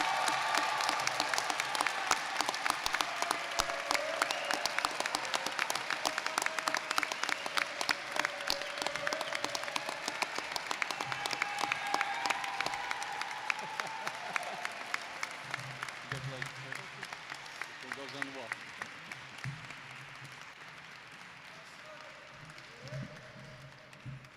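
Sustained applause from a high school graduation crowd for the school salutatorian and Pink Award recipient, sharp individual claps over a broad wash that slowly thins out, with a voice speaking faintly near the end.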